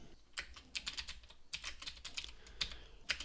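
Quiet, irregular clicks of a computer keyboard as someone types code, with short bursts of keystrokes broken by brief pauses, heard close and alone.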